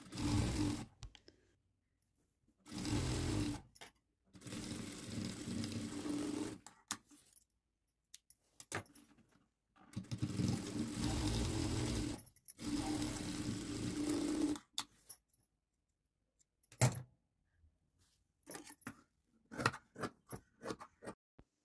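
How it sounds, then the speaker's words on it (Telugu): A sewing machine runs in several bursts of a few seconds each while stitching blouse sleeve seams, a close whirring hum separated by silent pauses, followed by scattered clicks and light handling at the end. "ఇంకా మనం స్ట్రైట్గా కుట్లు వేసుకోవడమే"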